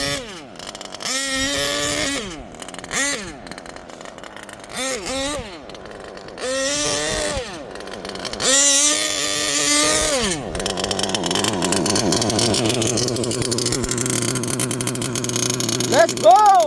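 HPI Savage Octane RC truck with a 3-speed transmission, its small gas engine screaming through repeated rising revs and gear shifts during wheelies, then settling into a steady high buzz, with excited voices calling out nearby.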